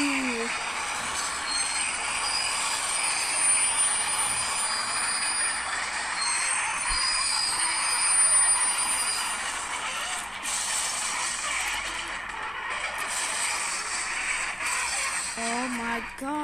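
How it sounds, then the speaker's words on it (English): BNSF freight trains, one a grain train, rumble and grind with squealing wheels and clattering cars in a long continuous roar, with a voice talking faintly over the noise. "BNSF 4882 West collided with BNSF 7938 East at 6:25 p.m. The force of the collision pushed the grain train back a little bit"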